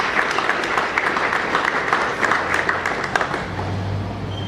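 A school audience applauds at the official opening of the 2018-2019 academic year, sustained dense clapping from a fairly close crowd that continues evenly throughout.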